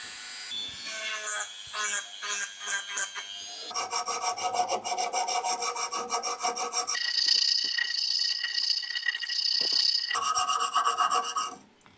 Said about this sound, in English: I had to sand it and just finish it so it looked nice because it was a bit rough.